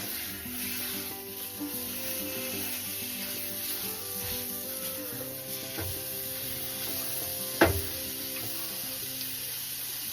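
Sausage meat frying in a pan while being broken up, with a steady close sizzle, soft scraping and stirring, and one sharp clack of utensil on pan near the end; no talking.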